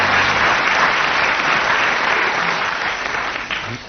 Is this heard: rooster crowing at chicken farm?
no